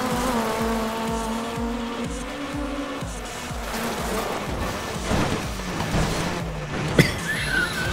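Rally car in Dirt 3 running on a bare metal wheel rim after the front left tire blew, engine droning with a steady grinding rattle and scraping, a sharp clank near the end, no talk.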